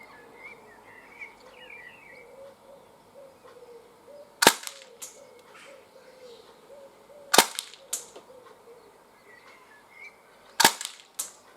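A Swiss Arms airsoft Uzi fires BBs outdoors: three sharp, isolated snapping shots spaced several seconds apart, loud against quiet ambience with faint birdsong in the background.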